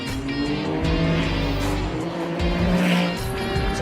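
A Ferrari 296 Challenge race car lapping Miami International Autodrome, its engine roaring loudly and continuously at high revs with shifting pitch and hints of tire noise, close onboard, no voices.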